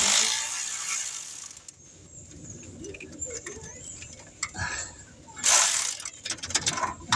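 A ratchet clicks rapidly in short runs, close by, while bolts are tightened during an alternator install on a 2008 Hyundai Accent, with scraping and clanking of tools under the hood.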